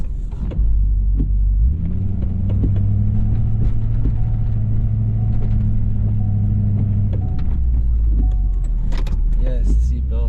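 Pickup truck plowing deep snow with the window down, a steady loud engine rumble that rises and holds as the plow pushes, continuous throughout with occasional clunks.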